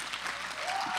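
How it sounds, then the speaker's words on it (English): Church congregation at a Sunday service clapping for veterans, a steady wash of applause filling the room for the brief moment, swelling slightly toward the end. "Let's give them a great big hand clap."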